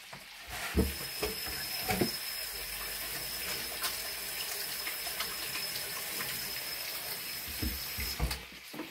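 Hands are washed under a running kitchen tap after handling pepper, a steady close rush of water with splashes and a few sharper knocks, without talk.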